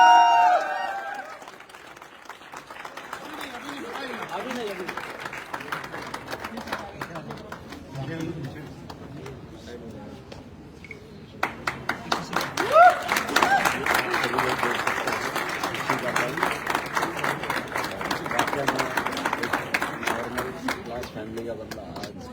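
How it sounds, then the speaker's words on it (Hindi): An audience at a motivational gathering breaks into loud applause after an initial lull, building into dense, sustained clapping that fills the second half, with voices and chatter underneath. "चलो जोरदार तालियां।"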